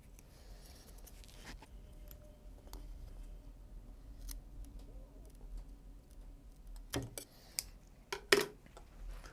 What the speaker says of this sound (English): take your scissors, cut these.